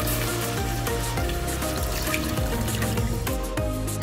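Water is poured into a pan to make broth for a sardine and glass-noodle soup, a close, steady trickling and dripping that runs under background music.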